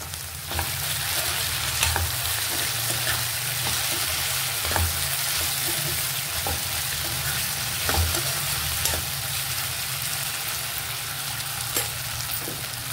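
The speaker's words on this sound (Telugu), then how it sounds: "ఇది ఇలా ఫ్రై అవుతున్నప్పుడే మధ్య మధ్యలో కొంచెం చూసి కలుపుకోవాలి." Egg and potato curry fries in a pan with a steady, close sizzle throughout. A utensil scrapes and stirs through it now and then, making soft knocks and scraping sounds.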